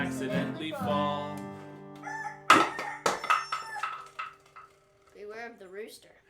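A rooster crows through a singing children's show, a loud drawn-out cock-a-doodle-doo with layered harmonic tones, followed by a few sharper bursts and a wavering tail.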